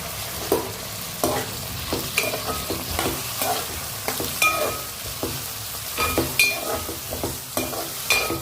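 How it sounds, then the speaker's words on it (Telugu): Drumstick pieces fry in oil for a tomato curry, a soft steady sizzle broken by repeated clatters of a spoon stirring the pan at close range. "సో ఇలా ములక్కాయలు బాగా ఆయిల్లో మగ్గాలన్నమాట"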